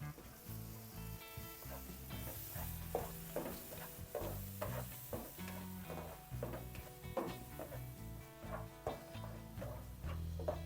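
Ground coriander leaf, tomato and green chili paste is stirred into a bitter gourd curry, with a continuous low sizzle and repeated clinks and scrapes of a spoon in the pan, no voices.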